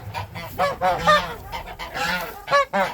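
A domestic goose honks repeatedly at close range, a series of loud nasal calls in uneven bursts with short gaps between them.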